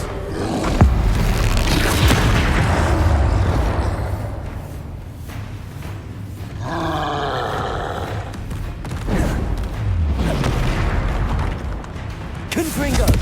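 Confringo fire-blast spells in the wizarding action game Hogwarts Legacy: heavy, rumbling explosive booms over continuous loud combat noise, with brief quieter spells and game voices between the blasts.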